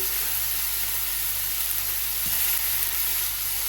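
Crab meat devil stirred with salt in a hot pan, a steady close sizzle and frying hiss running unbroken throughout, with no voices.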